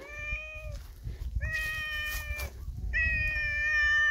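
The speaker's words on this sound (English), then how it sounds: "There's cats waiting for me here." Three clear, drawn-out meows come from cats nearby in Thailand, spaced about a second apart over a low background rumble.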